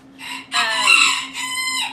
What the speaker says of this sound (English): Snuggie the rooster agrees